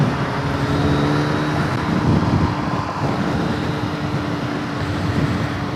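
A Kawasaki Z1000 motorcycle on a daily commute, heard as a steady, loud engine drone blended with road and wind roar, continuous throughout with no talking.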